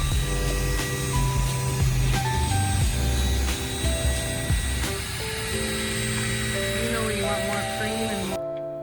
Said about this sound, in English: the impact drill is really helpful